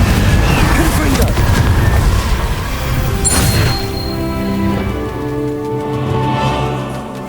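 A Confringo fire spell bursts in the Hogwarts Legacy video game with a loud booming blast and crash, followed by rumbling debris and a fading tonal magical hum.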